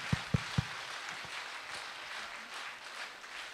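A few loud claps open a short burst of audience applause at a talk, which then thins into a soft, steady patter of scattered clapping and room noise.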